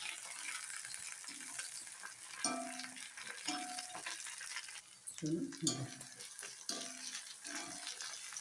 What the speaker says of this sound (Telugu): నూనెలో ఇట్లా వేసేసి వేగించేసేయాలి.